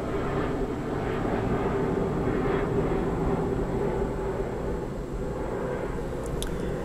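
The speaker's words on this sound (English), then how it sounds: "I'm gonna pause because an airplane is going over." An airplane passes overhead as a broad, low, steady roar with a faint tonal hum, fairly distant and continuous, with no speech.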